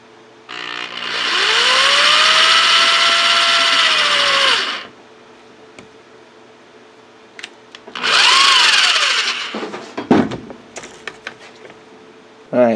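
A cordless power tool drives a screw through a DSL modem's plastic lid to mount a cooling fan, two close whirring bursts with the motor winding up and down, followed by small clicks and handling noises.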